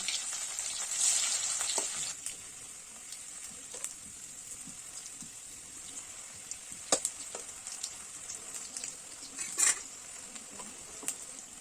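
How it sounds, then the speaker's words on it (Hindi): Potatoes frying in a pan for an Odia egg potato curry, a steady close sizzle with occasional scrapes and taps of a spatula stirring, louder at the start and then settling to a constant hiss. "यापर आमे आलू भाजीबा।"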